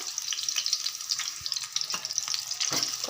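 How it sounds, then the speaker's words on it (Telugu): Steady sizzling and crackling of onions frying in hot oil, with occasional soft scrapes from stirring. "కొంచెం బాగా ఫ్రై కావాలన్నమాట ఆనియన్స్ వీటిని బాగా ఫ్రై చేసేసుకొని"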